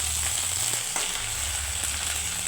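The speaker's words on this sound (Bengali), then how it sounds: "আর হালকা হালকা আঁচে ভাজবে" Rohu fish frying in oil over low heat with onion, chilli and peanuts gives a steady, soft hiss of sizzling with a few faint stirring clicks, close and uninterrupted, with no talking.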